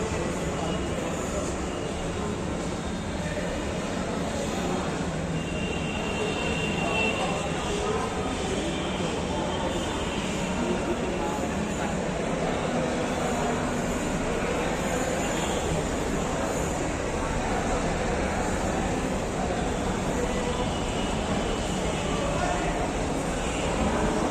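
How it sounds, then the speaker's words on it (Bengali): Steady loud rumbling roar of a Kolkata metro train pulling in, a continuous broadband whoosh that fills the whole stretch without pause. "এই মুহূর্তে আমাদের মেট্রো চলে এসছে"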